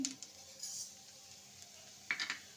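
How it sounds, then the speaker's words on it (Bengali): Fresh young coconut mixed with sugar being stirred in a bowl, heard as a few faint, close scrapes and light clinks of a utensil against the bowl amid near silence. "এবার ভালো করে নেড়ে নেব"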